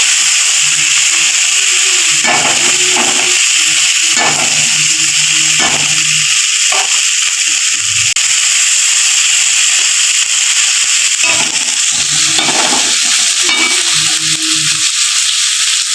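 Small pieces of stingray fish fat fry in a pan, giving a loud, steady sizzle and hiss throughout, broken by occasional low clattering and stirring sounds.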